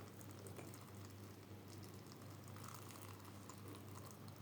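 Hot boiled water from a teapot pours into jars of brined grape leaves, a soft continuous watery stream heard up close and fairly quiet, with a small knock right at the end.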